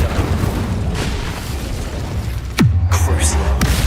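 A fire spell cast in Hogwarts Legacy, heard as a steady rumbling game backdrop that breaks into a sharp, loud whooshing burst near the end, followed by a sustained low roar.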